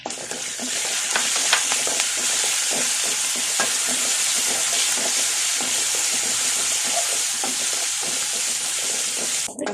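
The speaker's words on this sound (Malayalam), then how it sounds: "ഇതെല്ലാം ചൂടായി വരുമ്പോൾ അതിലേക്ക് കറിവേപ്പിലയും കൂടെ ആഡ് ചെയ്യാം." Curry leaves hit hot oil while sambar is being made, giving a loud, steady sizzle with crackling pops throughout, close up and with no voices.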